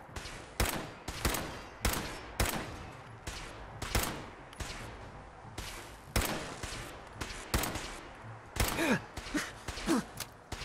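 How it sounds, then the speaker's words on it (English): Mr. Gutsy robot firing in Fallout 4, a rapid series of sharp gunshot bursts at a steady, uneven rhythm, fairly close, mixed with strained grunts and gasps from a character under fire. "Will you quit shooting at me?"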